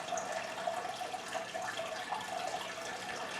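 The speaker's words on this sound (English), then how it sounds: "pours water continuously into the tank, so I'm not really quite used to all this noise from like constant water pouring" Water pours steadily and continuously into a home fish tank, a constant even splashing hiss that stays close and unchanging throughout, with no voices.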